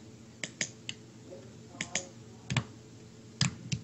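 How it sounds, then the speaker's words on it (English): Computer keyboard keys being pressed and clicked while playing a Roblox game, coming as scattered sharp taps in small clusters, close and fairly loud over a quiet background hum. "Don't you just love the sound of me constantly clicking and pressing buttons on my keyboard?"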